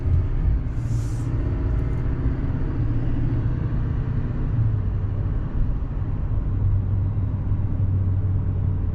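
A Chevrolet Silverado 3500HD Duramax diesel dually pickup truck makes a constant deep engine rumble and drone while driving, steady and loud with no pauses.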